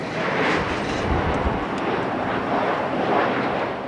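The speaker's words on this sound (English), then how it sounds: "all these airplanes overhead" A broad, steady roar of an airplane engine fills the air overhead, loud and continuous with some wind buffeting.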